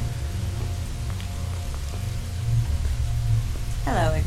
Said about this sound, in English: It's raining, y'all.